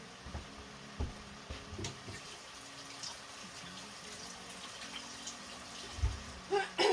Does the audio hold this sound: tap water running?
yes